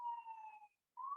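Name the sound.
sirens outside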